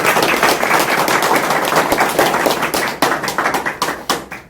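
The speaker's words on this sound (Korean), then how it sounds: "우리 주의원님에 대해서 한번 박수로 한번" A political forum audience in Korea claps for a lawmaker, starting as thick, steady applause and thinning into scattered individual claps toward the end.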